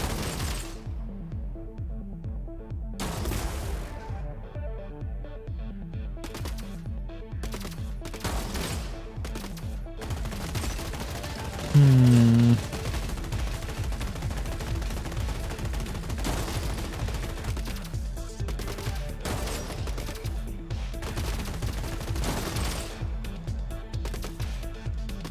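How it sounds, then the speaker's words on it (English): Shotgun fire and other weapon bursts from the robot-combat strategy game Gladiabots, a dense run of rapid cracks and bangs that continues steadily, with one brief louder thump near the middle. "So the shotgun's going to come and go pick this guy off."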